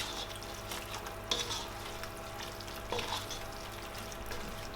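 Chopped carrot frying in a pan for a creamy coconut milk vegetable spaghetti gives a soft, even sizzle up close, with a couple of faint stirring clicks.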